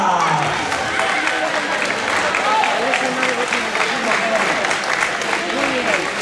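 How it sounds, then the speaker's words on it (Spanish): An audience applauds steadily at a children's costume parade, continuous clapping from a crowd with voices talking and calling out over it throughout. "Vamos allá y nos vamos aplaudiendo"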